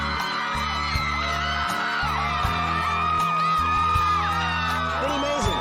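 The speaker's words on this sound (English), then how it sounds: "there was already a crowd gathered outside" A crowd gathered outside a house at a home makeover reveal cheers loudly and continuously, with whoops, yells and bellows over a steady tonal backdrop.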